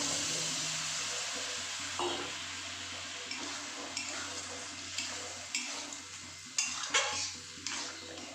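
Boiled kabuli chickpeas are stirred and sautéed in a pan, a steady sizzle carrying a spoon's scraping and periodic knocks against the metal. The sound is close and continuous, with no voices.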